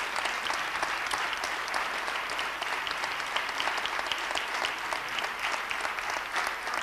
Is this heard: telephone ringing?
no